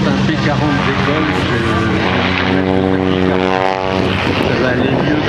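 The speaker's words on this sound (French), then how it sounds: "quand un P40 décolle" A Curtiss P-40 warplane takes off at the La Ferté-Alais air show, its propeller engine giving a loud, close, sustained roar with a throbbing harmonic drone.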